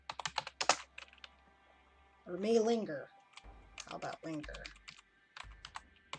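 Rapid clicking bursts of typing on a computer keyboard, close and crisp, alternating with a person speaking softly between the keystrokes.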